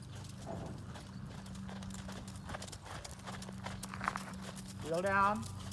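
Horse hooves clip-clop in a steady walking rhythm on an arena surface during a riding lesson, close and clear, while an instructor talks over the footfalls and a brief whinny-like sound comes near the end.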